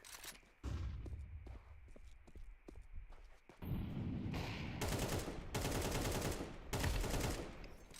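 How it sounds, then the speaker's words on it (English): A flashbang and gunfire in a competitive shooter video game: a run of sharp, close shots followed by loud sustained bursts of noise and blasts, with no talk over it. "Throwing a flashbang."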